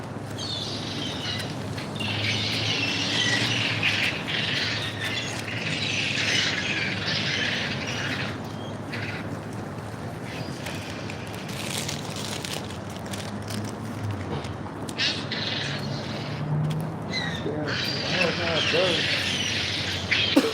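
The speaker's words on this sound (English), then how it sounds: "That's a lot of birds, man." A large flock of birds squawks and calls continuously outdoors, a dense, busy chorus of harsh cries filling the scene from start to finish, with a voice speaking now and then beneath it.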